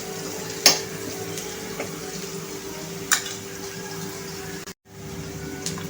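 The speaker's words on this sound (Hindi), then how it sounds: "देखिए, हींग डालने के बाद अच्छे से हींग को मिक्स कर लीजिएगा।" Asafoetida sizzling in oil in a frying pan with onions, a soft continuous fry under a few sharp clinks of a spoon stirring, then a brief drop to silence.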